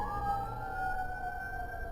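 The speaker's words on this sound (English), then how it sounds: "Sorry about the sirens, guys. It looks like we got a fire somewhere." A distant wailing fire siren holds a steady rising tone, faint and far off, with low background rumble and no talking.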